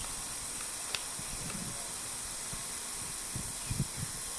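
A large HHO generator with a new liner runs and boils water, giving off a steady broadband hiss with soft bubbling pops and a few faint clicks, close and continuous.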